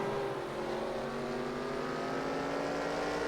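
Sportsman-class race cars circle a bullring speedway in a heat race, engines droning steadily and loudly at full throttle, a continuous layered roar of several cars with no break.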